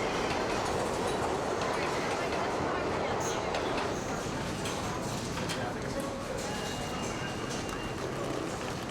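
A New York subway train rumbles and clatters steadily and loudly, a dense roar of wheels on rails with voices murmuring underneath.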